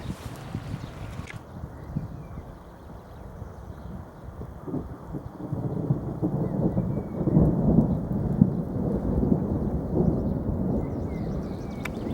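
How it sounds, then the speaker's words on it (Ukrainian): Steady spring rain pours down with low, distant thunder rumbling through it, the downpour swelling louder toward the middle and staying heavy to the end. "По-моєму, знову йде дощик."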